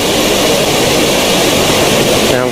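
A New Shepard rocket engine ignites at liftoff, a loud, continuous, dense roar that stays constant throughout, near and overpowering, with no voices.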